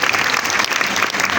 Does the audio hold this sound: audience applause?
yes